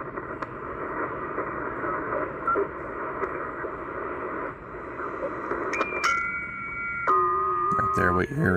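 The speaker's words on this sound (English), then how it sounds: "There, what you're hearing is FT8 digital transmission that amateurs use." Shortwave amateur radio receiver tuned near 7 to 8 MHz picking up FT8 digital transmissions, layered steady tones stepping between pitches over hissing band noise, growing louder and busier toward the end.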